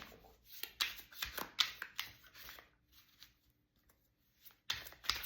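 A tarot deck is shuffled by hand in quick, close riffling bursts, with a short quiet gap before a final flurry of card flicks.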